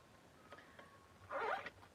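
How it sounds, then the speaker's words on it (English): A single quick pull of a zipper on a bag rasps briefly against a quiet room background, preceded by faint soft handling noises. "I need to learn how to work a zipper."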